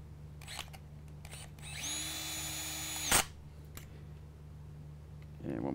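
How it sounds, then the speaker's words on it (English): A cordless drill driving hex bolts whirs steadily for about a second and a half, ends with a sharp click, then short faint clicks and rattles follow nearby. "I take my drill, because I do a lot of work with hex bolts and nuts"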